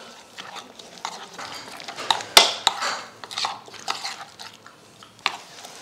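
Masala paste of orange food colour and besan being mixed in a bowl with a spoon. Close, irregular scraping and clinking of the spoon against the bowl, with one sharp metallic clatter.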